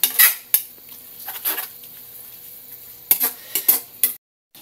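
Pancit canton noodles are stirred in a metal pan, a spatula scraping and clinking against it in sharp, uneven bursts with quiet gaps between them, close and clear, with no talk.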